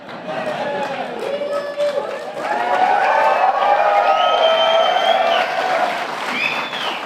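A crowd at a tribal nations summit at the White House applauds and cheers loudly, with whoops rising over sustained clapping that swells midway and holds for the full stretch.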